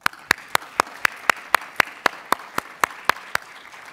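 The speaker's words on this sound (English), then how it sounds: "I want you guys to all join me in another round of applause." Regular, evenly spaced sharp claps, about four per second, ring out close and clear over a faint room hiss after a tech and innovation panel in Chicago, sounding more like a single person clapping than a full crowd.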